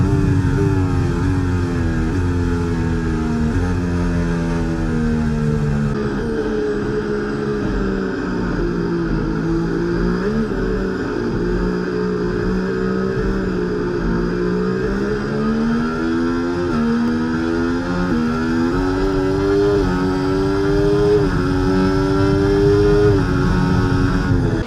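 Formula 1 engines from EA Sports F1 24 at the Chinese Grand Prix, a Mercedes among them, scream steadily and loudly for the whole stretch, pitch sweeping up and down as the cars lap.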